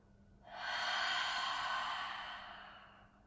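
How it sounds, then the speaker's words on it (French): A single long, loud exhale through the mouth during a guided yoga breathing exercise, a breathy whoosh that swells quickly and fades slowly over about three seconds. "Expirez par la bouche."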